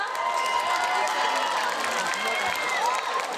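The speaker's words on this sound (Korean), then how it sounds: "다시 한 번 큰 박수 부탁드릴게요" Teen crowd at an outdoor public radio broadcast show in Namyangju claps and cheers, a continuous mid-level roar of applause and shouts lasting throughout, with scattered voices mixed in.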